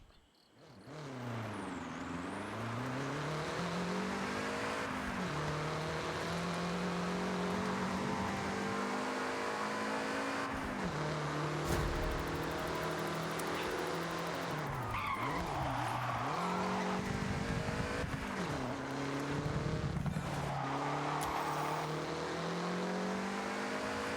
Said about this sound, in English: Let's go with the Peugeot.